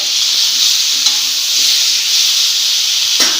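Chopped pumpkin and tomato with turmeric frying in a hot pan, giving a loud, steady bright sizzle and hiss with faint stirring scrapes, ending in a short scrape near the end, with no talking.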